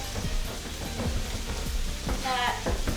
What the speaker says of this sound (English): You literally just put it like in some oil and lightly fry it.